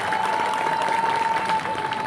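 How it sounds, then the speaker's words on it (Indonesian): Lively applause and crowd cheering at a local volleyball tournament semi-final, a dense steady clatter of many hands lasting throughout with a faint tone running beneath. "Berikan tepuk tangan yang meriah"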